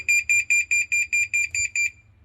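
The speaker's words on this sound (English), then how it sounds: "if water's underneath it, it'll beep, and it'll make this sound" A water leak alarm under a sink gives nine evenly spaced electronic beeps, loud and shrill, pulsing steadily before stopping, with a faint low hum underneath.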